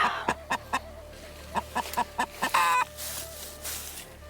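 Several hens cluck in short, evenly spaced bursts close by, pausing and then picking up again with a longer squawk, over a quiet farmyard background.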